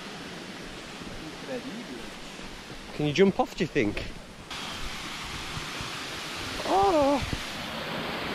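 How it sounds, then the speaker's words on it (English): Steady broadband rush of a waterfall pouring into a pool at a wild swimming spot, constant and fairly close, with people talking and exclaiming over it. "There's a waterfall and there's the pool."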